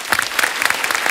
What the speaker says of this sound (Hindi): पहले जोरदार तालियां।